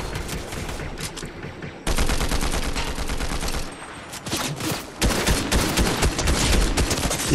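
Fortnite gunfire in a trio squads match on PS5, rapid bursts of automatic shots crackling in dense volleys, loud and close, with short pauses between flurries.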